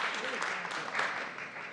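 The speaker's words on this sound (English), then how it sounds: "a round of applause for the youth who helped put these photographs together" Scattered applause at a city council committee meeting, a modest, fairly faint patter of clapping from a small room audience, with voices briefly mixed in.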